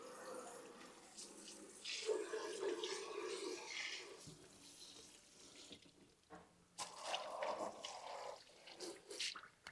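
Water rinses down inside a WAZER Pro desktop waterjet cutter, splashing and trickling in uneven bursts with brief pauses, faint and close.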